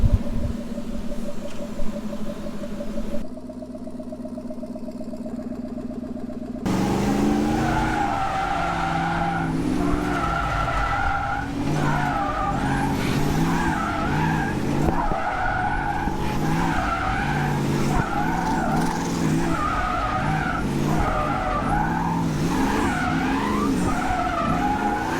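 A drift car warming up before a mountain-course run, tires skidding and engine roaring continuously at close range, with harmonic engine tones rising and falling over a rumbling, sustained squeal.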